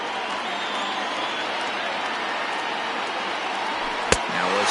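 A baseball stadium crowd of about 29,000 rises to its feet, a steady broad roar of cheering and applause sustained throughout, with one sharp loud crack near the end.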